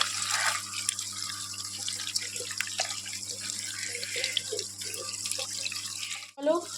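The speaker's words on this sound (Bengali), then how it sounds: "আমগুলোকে ভালোভাবে ধুয়ে নিতে হবে" Mangoes being washed by hand under a running tap, with steady splashing water and occasional clatters close by, ending in a brief clunk.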